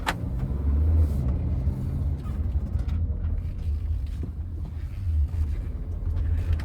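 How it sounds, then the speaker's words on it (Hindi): A 2024 Tata Curvv diesel automatic car makes a slow U-turn, its engine giving a steady, low rumbling hum with no voices over it. "गाड़ी को यहाँ से आगे से लेते हैं गाड़ी का यू टर्न।"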